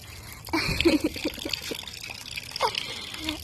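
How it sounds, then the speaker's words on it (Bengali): Fish being rinsed with water, liquid splashing and trickling in short bursts close by, with people talking over it. "একজনকে দিয়ে মাছ ধোয়াচ্ছি, মাছটা তুমি ধোও অবশ্য।"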